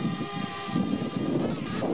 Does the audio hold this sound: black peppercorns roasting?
no